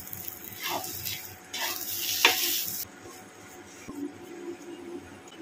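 Soybean mixture drying and being stirred in a pan over a medium flame, with soft sizzling under intermittent scraping stirs, a louder burst in the middle before settling into a quieter sizzle.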